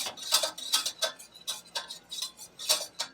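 A roux whisk stirs a cheese sauce for mac and cheese in a pot, giving rhythmic metallic ticks and scrapes in quick regular strokes, close and fairly quiet, with no talking.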